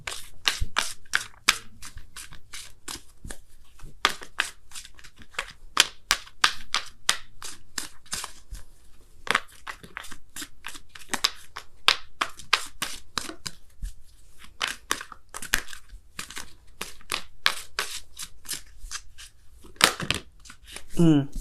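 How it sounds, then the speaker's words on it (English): Oracle cards shuffled by hand, a steady run of crisp riffling snaps and flicks repeating for the whole stretch, close and fairly loud, with brief pauses between bursts. "I'm going to pull you guys a Wisdom of the Oracle card as well"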